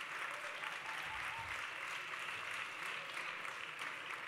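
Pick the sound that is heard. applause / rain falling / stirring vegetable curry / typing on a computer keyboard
applause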